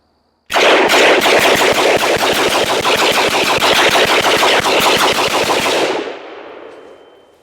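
A rifle fires a rapid, sustained automatic burst of evenly spaced loud shots for about five seconds with flour packed in the chamber, then the echo fades out.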